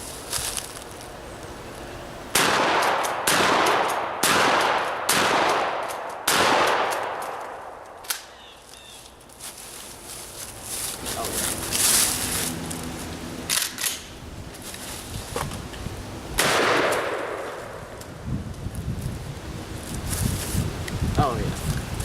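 Shotgun blasts destroying pumpkins in an outdoor firearms ballistics test, several loud sharp reports in irregular succession, each followed by scattering debris and rustle, with wind and brief talk between shots.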